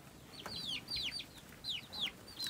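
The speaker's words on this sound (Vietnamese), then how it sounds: "gà nó không chịu đi kiếm ăn nữa. Tụ tập ở đây." Free-ranging domestic chickens gathered in a mountain village yard cluck and chirp in short repeated calls, several birds close by against quiet outdoor background, no talking.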